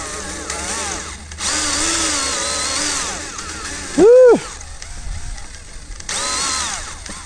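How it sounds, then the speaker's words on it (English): A power drill whines at high speed in several bursts, drilling a small 1/8-inch (3 mm) pilot hole for an aircraft installation, separated by short pauses and a brief tonal squeal. "So use your drill and use a smaller size first."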